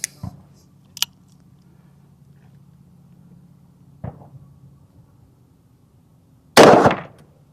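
Two sharp reports from a Ruger .480 Super Blackhawk revolver ring out in the open air, one near the start and a louder, longer blast near the end, with a fainter crack in between.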